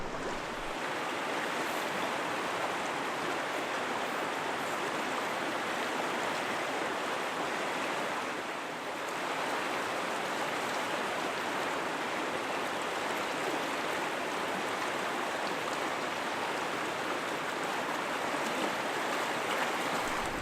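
An Idaho trout stream in winter flows in a continuous broad wash of rushing water, steady and fairly close, with faint wind noise and no talking.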